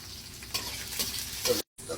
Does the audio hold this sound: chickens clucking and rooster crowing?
no